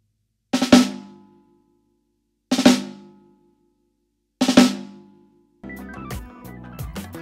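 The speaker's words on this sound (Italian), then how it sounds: "Sul rullante suonerebbe così." Three separate sharp snare drum strokes, each a quick drag into a crisp crack with a short ringing tail, evenly spaced and close, followed by a brief busier stretch of drum playing.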